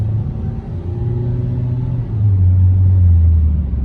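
A 2008 Mazda 3 accelerating up to speed: a steady, loud low engine rumble that deepens and swells past the midpoint as the car pulls harder, with road noise around it and no talk.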